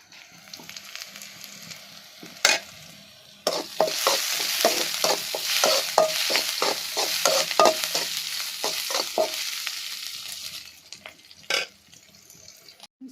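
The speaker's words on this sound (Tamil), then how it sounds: "வெங்காயம் நல்லா வதங்கிருச்சு" Onions sauté in a pan for a pepper-tomato greens stir-fry, with a bright frying sizzle and a quick run of rhythmic stirring strokes scraping the pan before the sizzle settles.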